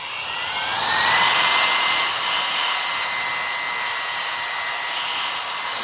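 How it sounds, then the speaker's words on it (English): Compressed-air duster blasting cobwebs and dust off a Transformers figure, a steady loud high-pitched hiss that swells after the first second and holds continuously to the end, with no voices. "we're just going to do a quick, you know, kind of decobwebbing with the air duster here"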